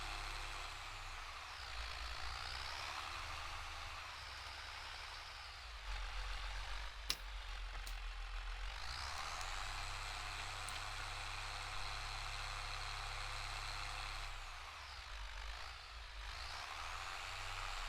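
A tractor engine in Farming Simulator 22 hums at a steady low idle and drive, rising and falling gently in pitch, close and continuous.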